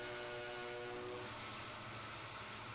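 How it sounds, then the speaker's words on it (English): A northbound freight train bound for South St. Paul passes at a distance, a steady rumble and rush of rail noise with a faint sustained horn-like tone early on. "we have got a northbound, it looks like this is going to be a South St. Paul train going north"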